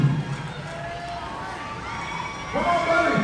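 A crowd cheering at a monster truck show, with a steady roar of voices and children shouting, swelling louder near the end.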